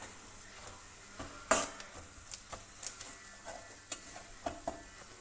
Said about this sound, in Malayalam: മല്ലിപ്പൊടി, മഞ്ഞൾപ്പൊടി എല്ലാം കൂടെ നന്നായി ഒന്ന് മിക്സ് ചെയ്യുക